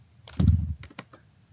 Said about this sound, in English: I saw Michelle typing.